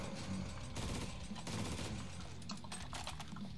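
Gunfire from a weapon in the video game Jupiter Hell crackles in rapid bursts and dense volleys, with short gaps between them. The shots are fairly faint and come alone, with no talk.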